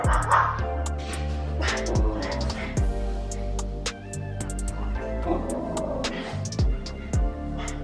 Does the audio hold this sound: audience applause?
no